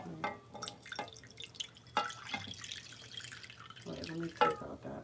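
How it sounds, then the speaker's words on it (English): Water drips and splashes into a bowl while bread dough is being made, coming in short uneven bursts close by, with people talking in the background. "Put a little water in there."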